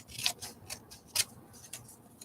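Scissors snipping through glossy magazine paper, a handful of quiet, crisp cuts spaced irregularly, close and faint with no talking.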